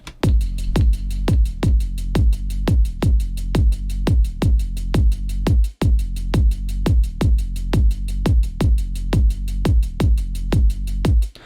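A steady electronic beat: a deep kick thumping on every beat with crisp hi-hats ticking between, a heavy bass underneath, looping evenly with one brief dropout midway.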